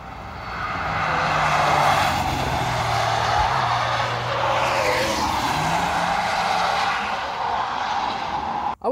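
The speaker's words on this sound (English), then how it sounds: "Something big, heavy and quiet is coming. Could be the Rolls-Royce." Rolls-Royce Ghost driving through a chicane at the Nürburgring: a smooth, fairly subdued engine hum with a faint tire hiss that shifts in pitch as the heavy car passes close, no voices.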